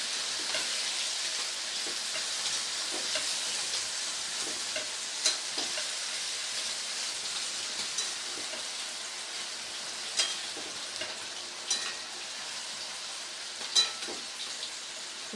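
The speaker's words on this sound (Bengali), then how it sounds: "শাকটা দেওয়ার পরে সবজির সাথে খুব ভালো করে মিশিয়ে নেব।" Malabar spinach and mixed vegetables are stirred in a frying pan for a fish-head chorchori, giving a soft, even sizzle with occasional sharp scrapes and clicks of the spatula, no talking.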